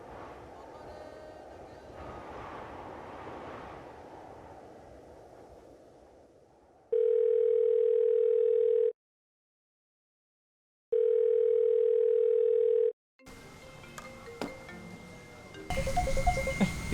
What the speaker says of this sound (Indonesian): Tunggu, mau punya HP Chris? Ada yang mau telepon?